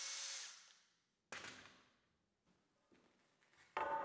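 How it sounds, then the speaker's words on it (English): A drill bores pocket holes through a workpiece clamped in a pocket hole jig, with short, quiet bursts of drilling separated by pauses, the last one starting abruptly near the end. "to make the pocket holes, I'm using this jig that you need to clamp down to the workpiece"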